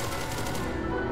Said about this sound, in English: Chris, you're running away from gunfire.